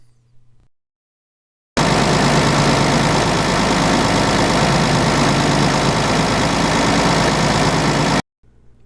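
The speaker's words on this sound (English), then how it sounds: "Now you are ready to start the engine." A John Deere 4430 tractor engine starts and idles after a fuel filter change, a loud, steady low diesel rumble that holds evenly for several seconds before cutting off abruptly.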